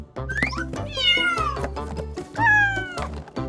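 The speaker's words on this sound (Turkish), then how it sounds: "Kedicik." A cat meows several times, with rising and falling mews over a steady, looping musical backing.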